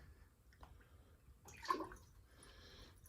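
Water from a sediment sample is poured into a graduated cylinder, a brief faint splash and trickle in an otherwise quiet setting, with a soft pour following after a short pause.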